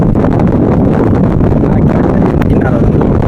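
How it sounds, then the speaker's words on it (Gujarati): Strong wind blowing at the seashore buffets the microphone in a constant loud roaring rumble throughout, with no clear speech over it. "પવન અહીંયા ઉડે છે બહુ"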